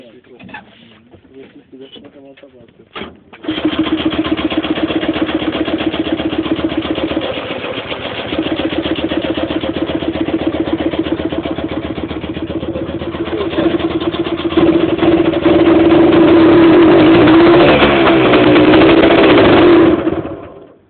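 A DT75 tractor engine with a carburettor fault catches after a brief start attempt and runs at a loud, steady idle with a low droning tone, close by, while people talk over it.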